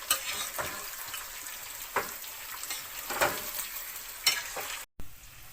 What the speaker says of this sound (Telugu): ఈ కాకరకాయ ముక్కల్ని నూనె అంతా ముక్కలు పట్టేలాగా ఫ్రై చేసుకోవాలి